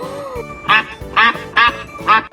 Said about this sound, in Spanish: Ahora vamos a aprender cuál es el sonido del